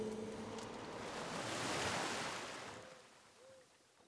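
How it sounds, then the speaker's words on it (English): A water magic spell effect built from surging waves: a broad rush of surf swells up, peaks, then ebbs away into quiet. "Water spell, right."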